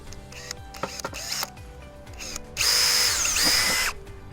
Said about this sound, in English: just drill a hole at the top.